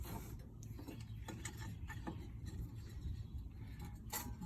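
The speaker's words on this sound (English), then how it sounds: "going to unscrew the C-clamp" A steel C-clamp used on a brake caliper is unscrewed, its threads giving faint, irregular ratcheting clicks and creaks over a low background hum.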